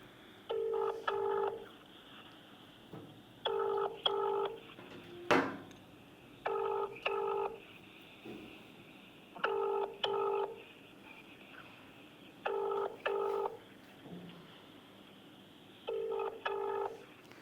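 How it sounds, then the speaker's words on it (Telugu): A sequence of electronic telephone keypad dialing tones, short beeps in quick pairs and clusters, repeated several times with pauses between, close and clear with no talking. "ఒక్కసారి పిఓడబ్ల్యూ సంధ్య గారికి కాల్ చేద్దాం"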